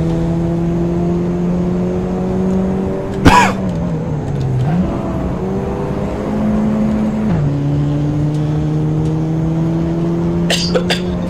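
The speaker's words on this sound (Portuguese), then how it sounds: "não tô nem acelerando todo o carro pra não ferir o motor" Race car engine in Assetto Corsa, held at a steady drone with pitch dips and shifts, a brief loud burst near the middle, with faint voice-like sounds scattered over it.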